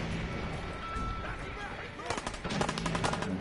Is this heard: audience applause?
no